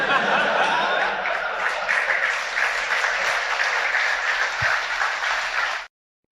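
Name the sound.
WWE fans clapping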